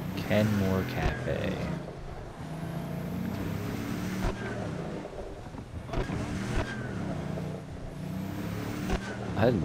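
A car engine in the video game Cyberpunk 2077: Phantom Liberty revs and roars up close, its pitch climbing and dropping through gear changes, with other sounds layered underneath.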